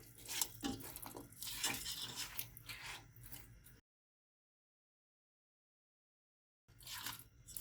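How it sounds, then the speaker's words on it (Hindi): Dragon chicken being stirred in a pan, a scraping, clattering stir for a few seconds, then a gap of silence before the stirring resumes briefly. "और इसको अच्छी तरीके से चलाएं।"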